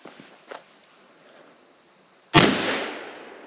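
A single 20 gauge shotgun blast firing number 3 buckshot outdoors, one sharp loud crack with a decaying tail, preceded by quiet background with a faint steady insect hum and a couple of small clicks.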